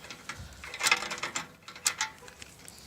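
Bolts on a Harley Davidson Roadster slip-on exhaust are tightened with a ratchet, producing quiet, irregular bursts of metallic clicks and scrapes close by, without speech.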